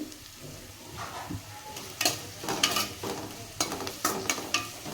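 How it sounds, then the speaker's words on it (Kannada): Chopped fenugreek leaves fry in a pan while being stirred, giving a soft sizzle broken by repeated scraping strokes of a spoon against the metal, close and moderately loud. "ಈಗ ಅದನ್ನು ಇದಕ್ಕೆ ಸೇರಿಸೋಣ ಇದು ಸ್ವಲ್ಪ ಫ್ರೈ ಆಗಲಿ ಕಂದು ಬಣ್ಣಕ್ಕೆ ಬರಲಿ"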